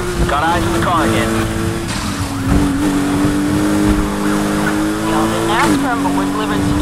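A Lotus Exige S in a Need for Speed police chase at night roars at full throttle, its engine note climbing and dropping through gear shifts, loud and continuous with tire noise.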